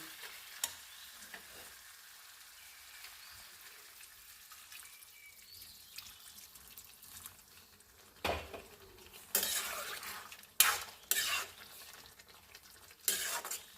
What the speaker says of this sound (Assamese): মই ইয়াতে অকণমান গৰম পানী দি দিম।